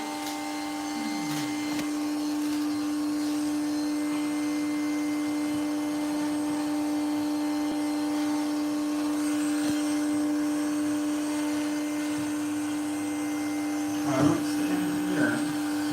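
A bee vacuum runs steadily during a honeybee cutout, drawing up bees with a continuous motor drone and a high whine that hold evenly throughout, ending in a few brief knocks and rustles.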